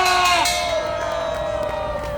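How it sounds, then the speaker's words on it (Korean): A crowd of professors and supporters at an emergency rally gives a big collective shout, a loud sustained roar of many voices with a bright tone cutting through, tapering off slightly toward the end. "여러분 큰 함성 한번 부탁합니다"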